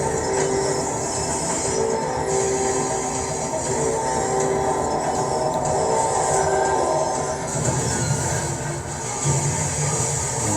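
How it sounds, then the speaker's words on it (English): A fast train rushes through a factory in the Poppy Playtime Chapter 2 video game, with a continuous loud rumble, rattling wheels and squealing metal tones lasting the whole stretch. "This train's going too fast, bro."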